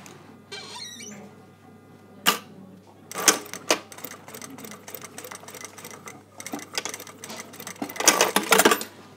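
A sewing machine stitches the corners of a blazer welt pocket and back tacks, giving rapid mechanical rattling runs in short bursts with pauses and small clicks, close and moderately loud.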